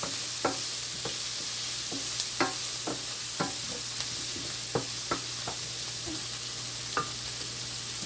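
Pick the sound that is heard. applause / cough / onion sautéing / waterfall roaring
onion sautéing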